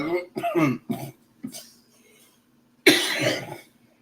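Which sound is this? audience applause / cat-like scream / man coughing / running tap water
man coughing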